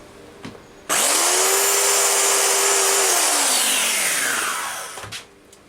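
An angle grinder spins up sharply and is touched to the edge of a homemade steel washer for medieval armour, giving a loud, close whine and grinding hiss for about four seconds before winding down.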